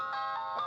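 A phone ringtone rings at steady volume in a short burst with a repeating melodic pattern, sounding alone with no talk over it.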